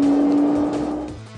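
A Nissan GT-R on launch control, its engine held at high revs with the brake pinned, a loud steady near drone with a strong tonal whine that fades slightly and shifts near the end.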